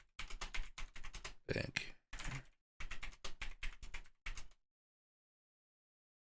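Typing on a computer keyboard in quick bursts of clicking keystrokes, close and fairly loud, with a short spoken word mixed in, then stopping and leaving near silence for the last two seconds.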